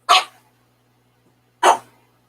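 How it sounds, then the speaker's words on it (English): A dog at an Arizona rally lets out two sharp barks about a second and a half apart, close and loud, yelling at another dog to get it to play, with quiet in between. "he's down there yelling at the other dog, trying to get the other dog to play with him"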